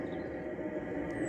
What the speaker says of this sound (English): That noise you can hear is the diesel heater.